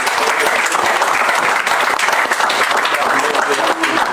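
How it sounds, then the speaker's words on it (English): Steady applause at an opposition parties' joint press briefing, dense close clapping from a crowd sustained at full volume, with voices mixed in beneath it. "Let's just give a clap of applause"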